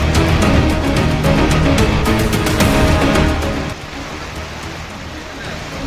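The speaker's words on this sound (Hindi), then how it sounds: "पानी का प्रहार, मुसीबत मूसलाधार।" Heavy monsoon downpour, a dense steady hiss of rain that drops suddenly to a softer, thinner patter partway through.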